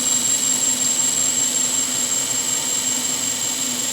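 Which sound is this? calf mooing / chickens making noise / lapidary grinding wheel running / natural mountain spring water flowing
lapidary grinding wheel running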